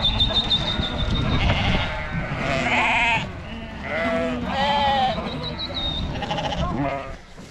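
Ewes and lambs bleating in a sheep yard during weaning work, several loud overlapping calls rising and falling close by, with someone talking now and then.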